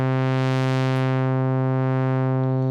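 An Arturia OB-Xa V software synth holds a steady buzzy tone while a sine-wave LFO sweeps the filter cutoff up and down, brightening and dulling it smoothly, loud and alone.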